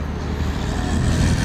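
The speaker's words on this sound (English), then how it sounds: "Anybody want to know what LA traffic is like?" Los Angeles road traffic makes a steady, dense rumble of passing cars and engines, close by and continuous with no break across the short stretch.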